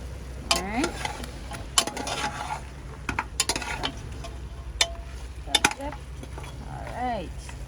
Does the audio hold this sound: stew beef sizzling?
yes